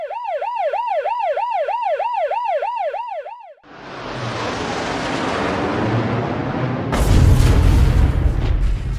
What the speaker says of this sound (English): Army ambulance.